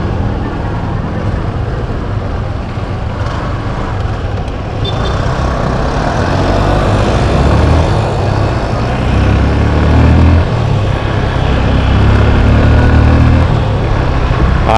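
Steady drone of a motorcycle engine while riding on the road, loud and close with a deep rumble that swells slightly midway, alongside constant wind and road noise and no talking.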